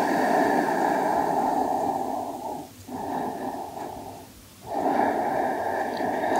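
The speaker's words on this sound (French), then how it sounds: "Les dernières respirations." Slow, deep breathing during a yin yoga pose, long audible inhales and exhales close to the microphone with two brief pauses between breaths.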